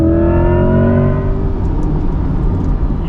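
A 2024 Chevrolet Corvette E-Ray with e-all-wheel drive accelerating hard on a race track, its engine note rising steadily in pitch as it pulls through the gears, loud and continuous from an onboard position, with no talking.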